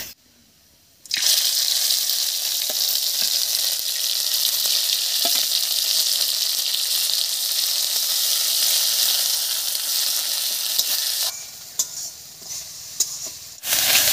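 Ground cauliflower leaf paste goes into a hot pan for a Bengali bata recipe. After a second of quiet, a loud, close sizzle bursts out and hisses steadily for about ten seconds, then drops back to a softer frying crackle.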